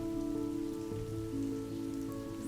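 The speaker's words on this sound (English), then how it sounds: "It's so rainy." Game-world rain falls steadily as a soft continuous patter beneath sustained musical drone tones, fairly quiet, with no talk.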